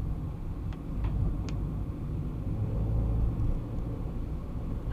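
Car traffic on wet streets in Lyon during rain, a steady low rumble of engines and tyres from inside a moving car, with a few faint clicks above.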